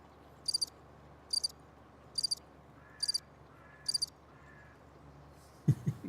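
A cricket chirping sound effect played back during a stream, five evenly spaced bursts of high trilling chirps in a quiet room, followed by a brief knock at the end.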